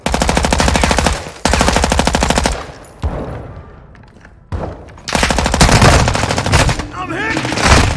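Loud, rapid automatic gunfire in Call of Duty Modern Warfare 2 DMZ, long sustained bursts broken by short pauses and a quieter gap, close and dominant.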